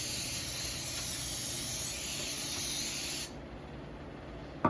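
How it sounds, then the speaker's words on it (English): A steady aerosol of butter cooking spray hisses onto a pan for about three seconds, then cuts off abruptly, leaving a quiet room tone. "I'm going to spray my pan with the"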